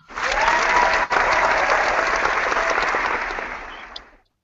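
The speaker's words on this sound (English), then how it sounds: "Round of applause." A talk show audience breaks into a loud round of clapping and cheering that holds steady for several seconds, then tapers off and fades out.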